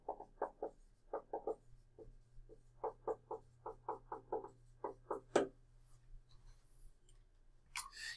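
Chalk or marker scratching on a board in a quick series of short strokes, close and fairly quiet, with a steady low hum behind and a sharp tap near the end.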